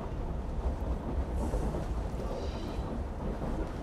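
Noisy train in Assassin's Creed Syndicate: a continuous heavy low rumble and rattle, as if from inside a moving railway carriage, steady throughout with no voices.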